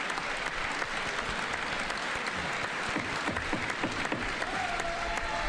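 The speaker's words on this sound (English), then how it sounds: "7 minutes of straight clapping." A crowd keeps up sustained clapping for Trump, a thick unbroken roar of applause at steady loudness with no speech over it.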